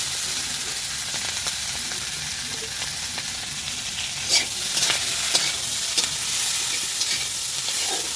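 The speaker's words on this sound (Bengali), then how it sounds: "তেলে তো সব সবজিগুলো ভেজে নেব" Vegetables frying in hot oil give a continuous loud sizzle and hiss, with spatula stirring and scraping knocks standing out in the second half.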